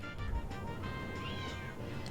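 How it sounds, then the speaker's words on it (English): A cat meows in the background, faint and drawn out, over a low steady hum. "Hopefully you can't hear the cat meowing in the background."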